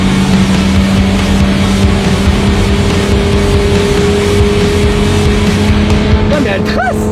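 A Nissan Skyline at high speed on an unlimited German autobahn, its engine drone and road and wind roar loud and continuous from inside the car, with a faint voice underneath and a rising engine note near the end.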